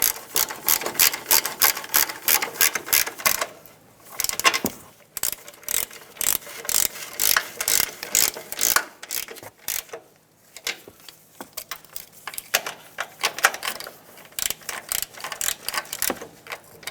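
Ratchet wrench tightening the front shock absorber mounting nuts on a 2009-2014 Ford F-150, heard as bursts of rapid, close clicking with brief pauses between strokes and no talk.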